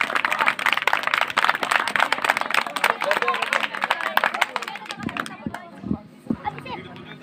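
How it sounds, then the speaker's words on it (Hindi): Schoolchildren clap together at a school ceremony marking Gandhi and Lal Bahadur Shastri Jayanti on 2 October 2022, a dense, lively burst of applause that dies away after about five seconds, leaving scattered voices and noise. "तो एक ताली आपके लिए।"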